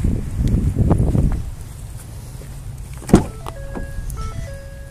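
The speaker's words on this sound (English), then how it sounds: "It also has the power moonroof." The power moonroof motor of a 2012 Ford F-150 SuperCrew FX4 whirs briefly near the start, followed by a click and a few soft electronic chime tones inside the cab.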